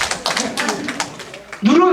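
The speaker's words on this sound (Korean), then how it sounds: "할렐루야, 박수 쳐주세요." A church congregation claps in quick, steady rhythm during a sermon, a run of close hand claps that gives way to someone speaking.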